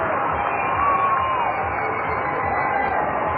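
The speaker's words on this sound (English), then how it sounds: "This crowd has definitely come alive." A stadium crowd at a Cedar Rapids Kernels minor-league baseball game against the Lansing Lugnuts in 2004 roars steadily after a three-run sixth inning, a dense, continuous wash of cheering and chatter without a break.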